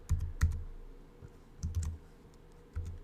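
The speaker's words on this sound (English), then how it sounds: "So I'm just going to type in mine." A website name being typed on a computer keyboard: a few short bursts of key clicks with pauses between them, close and fairly quiet, with no voices.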